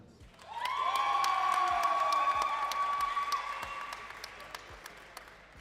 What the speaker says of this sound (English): Round of applause for these athletes.